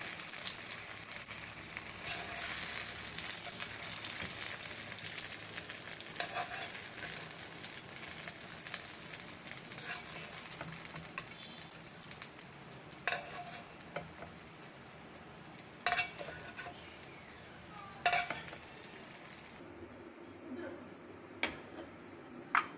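Potatoes frying in oil for a fried eggplant dish, a continuous bubbling sizzle for most of the stretch, later broken by scattered clicks and knocks as it quiets down.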